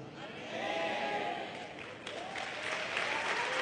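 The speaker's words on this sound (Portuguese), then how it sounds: "Pode dar uma salva de palmas forte a ele." Congregation at a church sermon breaks into strong applause, a dense continuous clapping that swells over a few seconds, with voices and shouts mixed in.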